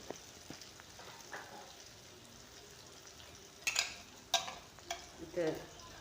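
Chicken chilli being fried in a pan, with a steady low sizzle throughout and a few louder stirring scrapes and clatters toward the end, heard close with no talking.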